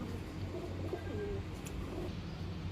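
Pigeons at a pigeon shop in Odisha, soft low coos repeating in a steady murmur, fairly close and quiet with no talking over them.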